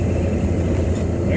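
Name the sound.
work van engine shifting into third gear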